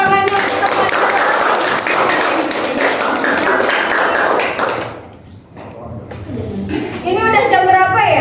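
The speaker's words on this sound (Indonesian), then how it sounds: "Berikan tepuk tangan yang tepat." A classroom of students claps in a dense, steady patter of applause for about five seconds after a teaching presentation. The clapping then fades, and children's voices and chatter follow.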